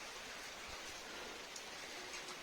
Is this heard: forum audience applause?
no